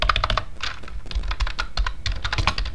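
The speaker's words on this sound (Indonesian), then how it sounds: "Jika kita ketik terima kasih." Rapid clicking keystrokes on a computer keyboard as a short phrase is typed, close and crisp, with uneven bursts of taps and no talking.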